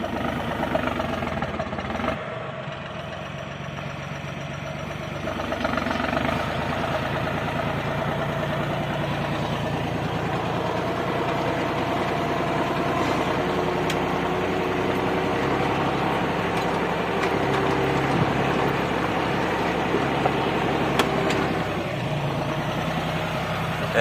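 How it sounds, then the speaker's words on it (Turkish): A New Holland T4.60S tractor engine labors continuously at close range ploughing a stony field, a heavy, steady rumble that strains and surges slightly under load, nearly stalling, with no talking. "neredeyse stop edecek. Traktör o kadar zorluyor."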